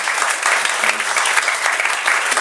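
Audience at a live comedy show giving a gentle round of applause, dense steady clapping from many hands close by, filling the whole moment without a break.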